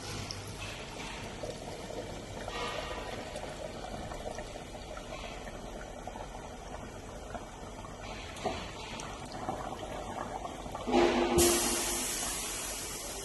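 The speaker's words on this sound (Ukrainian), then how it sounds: "Набирається вода" Water runs into a MAN Euro 6 intercooler on a leak-test bench, a low steady pouring and gurgling rush that builds into a louder surge of flow near the end.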